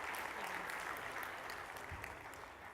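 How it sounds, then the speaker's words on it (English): Conference audience applause at a cloud hosting industry event in India, a faint, steady patter of many hands clapping heard from a distance, fading slightly toward the end. "give a big round of applause here."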